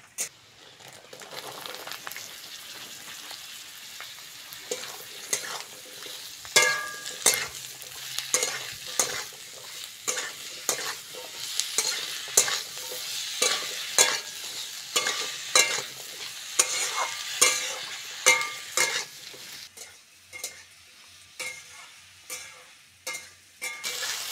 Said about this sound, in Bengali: বেগুন আর আলুটা পেঁয়াজের সঙ্গে ভালো করে ভেজে নিয়েছি